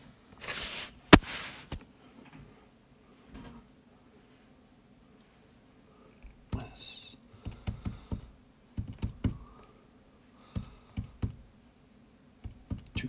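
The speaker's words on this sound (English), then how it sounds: "Furiously jamming numbers into my calculator." Calculator buttons pressed in quick clusters of sharp clicks during a math calculation, close and dry, with a brief louder clatter near the start and quiet pauses between bursts.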